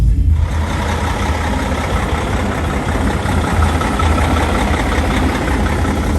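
A Kenworth W900 truck's engine idles loudly and close by, a steady low diesel rumble with a constant drone that holds without change for several seconds.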